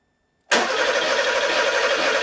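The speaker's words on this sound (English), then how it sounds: "So let's crank it and see if there's a signal here." After half a second of silence, the 3.2-litre engine of a Porsche 911 Carrera cranks loudly and close, a continuous even churning that lasts until the end.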